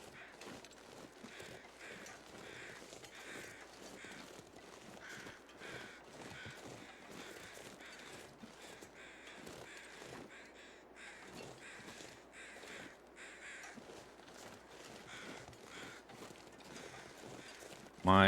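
Crows caw repeatedly throughout a quiet outdoor scene in the survival game The Long Dark, with steady calls at moderate distance over faint ambient wind and no talking.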